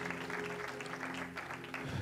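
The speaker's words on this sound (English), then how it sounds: "just give God one more hand clap of praise in this place" A church congregation claps hands in praise during a Sunday service, a dense steady patter of applause that is close and fairly loud, with a faint voice beneath.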